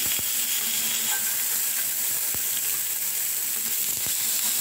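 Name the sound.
tamban fish grilling with a little oil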